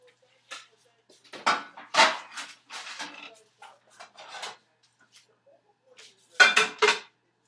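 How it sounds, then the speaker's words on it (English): Dishes clink and clatter in short, separate bursts as they are moved into a sink, close and fairly quiet, with stretches of silence between. "I have like all these dishes and stuff that need to be put into the sink."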